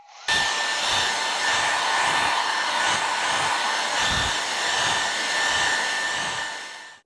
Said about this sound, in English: So I'm going to use my hairdryer here.